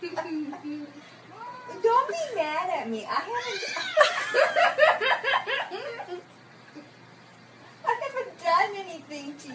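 A cat meows and yowls in drawn-out, wavering cries, close and fairly loud, mixed with people laughing and talking over it.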